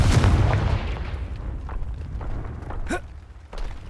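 A Confringo blasting spell in Hogwarts Legacy lands with a heavy booming explosion that rumbles and fades over a few seconds, followed by a faint whoosh and a smaller thud.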